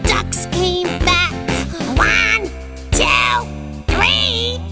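Sung nursery-rhyme duck calls: a voice imitating a mother duck's quacking in a children's song, several drawn-out melodic quacks in a steady rhythm over bright musical accompaniment.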